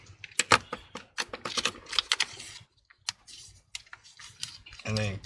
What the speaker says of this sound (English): It looks like the keyboard has to be folded in first.